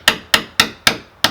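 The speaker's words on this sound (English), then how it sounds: "I'm just going to hammer it in like that screw was in" Five sharp hammer blows driving a bamboo skewer into an old screw hole in a wooden front door frame, struck at a steady, even rhythm, loud and close, with no voices.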